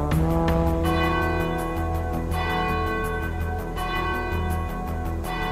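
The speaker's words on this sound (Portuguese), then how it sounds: "ela precisa tocar o seu sino para não quebrar a tradição" The church bell of the São Francisco Xavier mother church rings out loud and near, striking repeatedly in a steady rhythm with rich lingering overtones and no talking.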